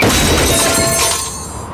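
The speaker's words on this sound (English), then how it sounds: "This is the sound of a brand new outdoor grill being hurled off a 20-story building." A brand new outdoor grill, hurled off a 20-story building, hits with one loud, close crash of shattering and clattering debris that decays over under two seconds.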